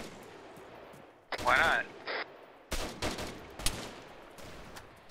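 Gunfire from shooting zombies in Arma 3 during a night zombie mission: a few sharp, loud shots and short bursts in the second half, after a stretch of players talking over the radio.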